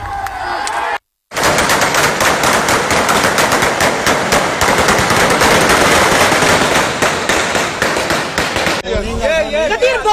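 Rapid gunfire outside a polling station during a by-election disturbance in NA 75, Daska: loud, close bursts of repeated shots crackle continuously for several seconds after a brief cutout, with a crowd and voices around them.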